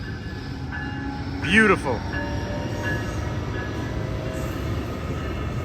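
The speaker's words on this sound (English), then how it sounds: "Listen to that diesel locomotive spool up." A Brightline diesel locomotive spools up at a Boca Raton rail crossing, giving a steady, broad engine rumble that holds throughout, with a person speaking briefly over it.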